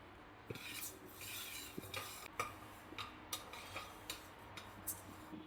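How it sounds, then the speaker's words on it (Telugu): Red lentils dry-roasting in a pan give off soft, dry scraping and light clinks as a utensil stirs them, in a quiet, irregular rhythm of brief taps and rubs with no talking. "ఎర్ర కందిపప్పు కొంచెం ఒక 2 నిమిషాలు వేపుతాను"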